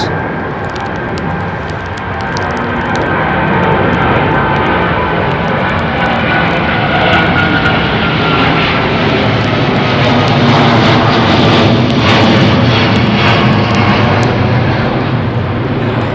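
Jet aircraft engines roar at London Heathrow Airport under a low cloud base, a loud, deep, sustained rumble that builds early and holds steady throughout without voices.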